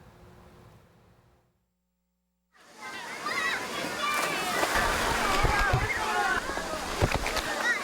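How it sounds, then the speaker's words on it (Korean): Children splash and play in a neighbourhood outdoor kids' pool in a park, with a water slide; after a brief silence, busy sloshing and splashing rise close by, mixed with lively voices and shouts. "집 앞 공원에 마련된 어린이 풀장에서 첨벙첨벙 놀다 보면 더위는 어느새 저만큼 물러갑니다"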